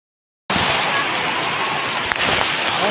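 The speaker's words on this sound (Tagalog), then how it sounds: "Ang grabe, lakas ng ulan." Heavy rain starts abruptly after a short silence and pours down as a dense, loud, continuous hiss, with a brief knock partway through.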